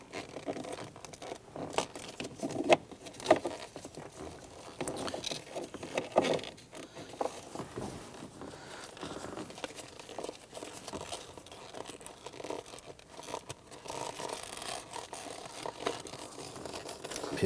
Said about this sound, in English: Work this up and peel the rubber boot off here. Work it all the way around.